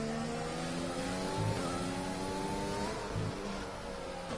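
Racing cars howl down a straight in a racing video game, a loud close engine note with rising gear pulls and brief shifts, layered with other cars' engines, no talk.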